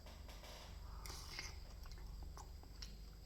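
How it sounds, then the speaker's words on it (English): Someone eating Peruvian ceviche up close, with soft wet bites and chewing sounds over a constant low background hiss. "Today I'm eating ceviche."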